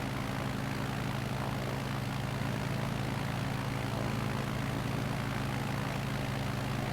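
Steady, loud propeller aircraft engine drone from a flight simulator bush-flying leg over Nevada, holding a constant roar with a power increase for a headwind, no voices.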